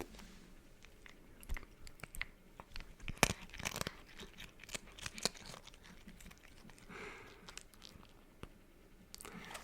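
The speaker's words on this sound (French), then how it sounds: "Ok, on va lui donner une deuxième croquette." A cat crunches on a kibble treat up close, irregular crisp bites and chewing clicks with a few louder crunch bursts in a quiet room.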